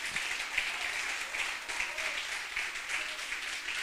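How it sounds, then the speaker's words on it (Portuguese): A church congregation applauds steadily after a sermon about healing, a dense continuous clapping that stays at an even level throughout. "Você pode aplaudir o Senhor Jesus?"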